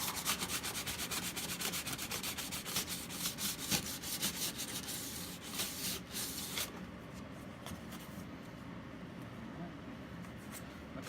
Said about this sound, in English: I'm going to sand it some more just because I don't want to melt that plastic